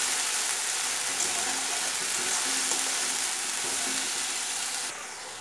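Mixed spices for a jackfruit curry stir-fry in a hot pan, giving a steady, close hiss and sizzle that holds evenly throughout with no talking.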